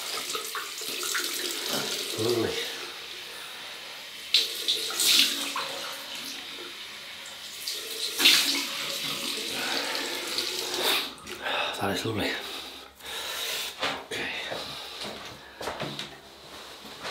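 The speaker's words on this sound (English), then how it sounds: "Cold water rinse." Cold water running from a tap to rinse a double-edge razor, a steady close splashing stream with intermittent knocks and clatters as the blade is moved under the flow.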